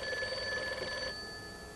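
A telephone bell ringing with a bright, steady electronic trill that cuts off partway through, leaving a faint room hush.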